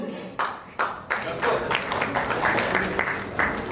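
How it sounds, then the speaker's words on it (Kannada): A crowd at the Appu Cup season 2 launch claps for the team Veera Kannadiga Bulls, a few scattered bursts swelling into fuller applause, with a voice speaking over the start. "ಚಪ್ಪಾಳೆ ನಿಮ್ಮ ತಂಡಕ್ಕೆ ನೀವಂತೂ ತಟ್ಟೆ"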